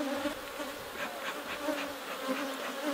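Honey bees buzzing at an opened hive: a steady, close, dense drone from many bees, with a pulsing hum and no talk.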